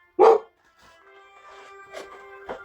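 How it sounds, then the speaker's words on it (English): A dog barks once loudly and close, followed by a couple of softer, shorter yips over a steady background hum. "when I'm done recording, that's when she'll stop fucking barking"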